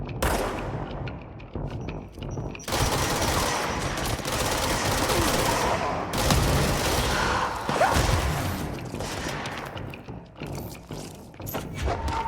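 Gunfire from the supernatural shooter game Control: loud, sustained rapid shots in long bursts with brief gaps, punctuated by thuds and whooshes, fading to sparser fire at the end.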